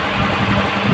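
A Honda CG125 motorbike idles slowly, its engine giving a close, steady low rumble with a faint uneven pulse for a moment and no one talking.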